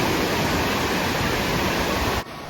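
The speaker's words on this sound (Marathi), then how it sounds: "समोर समुद्र, लाटांचा आवाज आणि थंडगार वारं सुटला." Sea waves wash steadily onto the shore at Malvan, a dense, even rush of surf filling the clip without pause until it cuts off near the end, with no talk.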